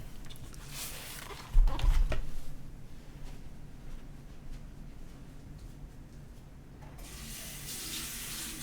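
A tap runs to fill a container with more water, a steady hiss of flowing water after a brief clunk as the tap is turned on, close and continuous with no talk.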